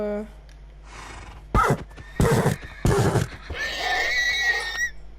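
Horse neighing in a Minecraft-style survival video game, a loud whinny followed by snorting bursts and a second high whinny near the end, close and clear over a low background hum.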